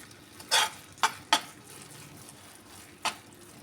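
Coloured sabudana halwa mixture being gently stirred in a pan, with four brief, soft scraping strokes up close and quiet pauses between them.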